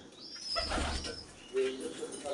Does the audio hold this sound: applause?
no